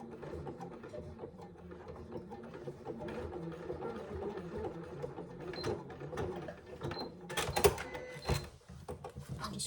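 A sewing machine stitches a zip pouch, its quiet mechanical whirr running in short bursts with small clicks and pauses.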